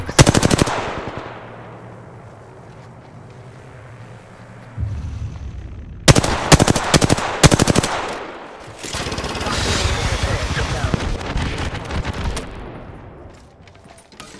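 Bursts of automatic gunfire in a first-person shooter video game, loud and close, with rapid volleys that start and stop, separated by quieter stretches of game ambience.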